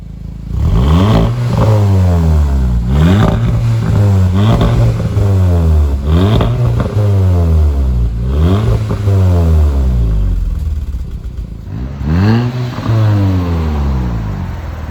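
An Audi S3 with a newly fitted chromed exhaust line revs repeatedly, rising and falling in about seven loud close-up throttle blips in a steady rhythm, then pauses briefly before one more rev.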